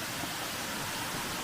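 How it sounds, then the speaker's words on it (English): Rufus Morgan Falls in Franklin, North Carolina, a continuous dense rushing roar of falling water, steady and close, with no voices. "I have made it up here to the main waterfall"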